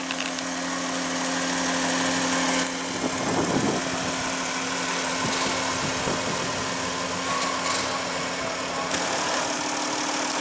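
A 2015 Dodge Journey's 3.6-liter V6 idles steadily and close by, a continuous low hum with a faint mechanical rattle running through the whole stretch, without voices.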